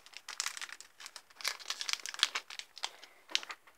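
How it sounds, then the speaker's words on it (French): Crinkly foil wrapper of a Pokémon card booster pack being torn and opened, a close, busy run of crackling rustles and small tearing bursts with no talk. "je pense qu'on va commencer à ouvrir le booster"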